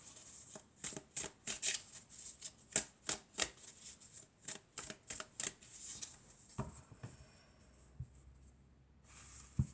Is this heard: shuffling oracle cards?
yes